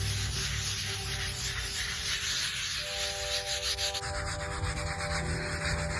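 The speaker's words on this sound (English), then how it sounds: "use a scrub brush to remove buildup" A scrub brush works over a wet stone headstone in steady back-and-forth strokes, a close, coarse rubbing and swishing that keeps a loud, even rhythm throughout.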